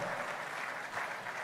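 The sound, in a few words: audience applause at an event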